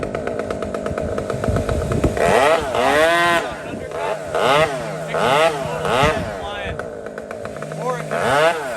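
A big chainsaw bucks a large log in a tight space, its engine rising and falling in repeated revving surges as the bar cuts, loud and close with a voice speaking over it.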